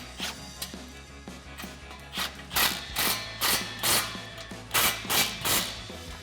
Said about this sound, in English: I'm just going to go back and forth and tighten the flange down evenly